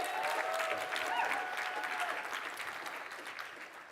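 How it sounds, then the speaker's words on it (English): Audience in a conference room applauds the organising crew of a diversity and inclusion pre-day event, a steady wash of clapping that stays fairly loud throughout and eases slightly toward the end, with no voices over it. "Shona and Haley and the rest of the crew should be given a round of applause for."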